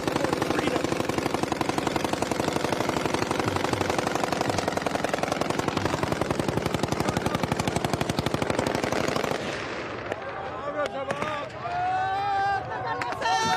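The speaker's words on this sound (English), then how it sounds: "And a lot of celebratory gunfire." Rapid bursts of celebratory automatic gunfire in Syria rattle steadily for several seconds, then stop, leaving crowd noise and a few scattered distant shots.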